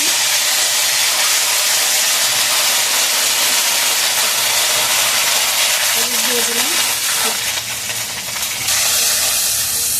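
Ginger paste hits hot oil with cumin in a pan, giving a loud, continuous hissing sizzle throughout, with brief faint tonal clinks near the end.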